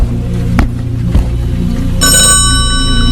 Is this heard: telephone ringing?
yes